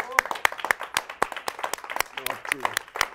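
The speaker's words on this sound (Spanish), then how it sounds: "un aplauso ahora sí a todo el equipo, por favor" A television studio audience claps in a steady, dense patter that continues throughout, with a person talking over the applause.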